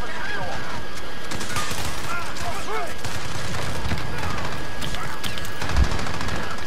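Dense gunfire from Call of Duty Modern Warfare multiplayer, rapid overlapping shots and bursts crackling throughout under a busy game soundscape, with a speaking voice mixed in.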